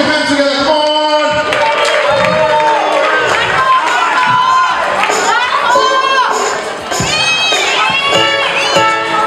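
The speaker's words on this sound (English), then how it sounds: "Put your hands together, come on!" A concert crowd at a Thomian dance in Sydney cheers and shouts loudly for a band, with children's shouts and the sustained roar of the audience throughout.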